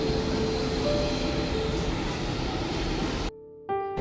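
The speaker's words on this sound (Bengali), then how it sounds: "এই দেখো আমাদের মেট্রো ঢুকছে।" A metro train roars steadily into a station with a faint tonal whine, then the noise cuts out and short electronic tones follow.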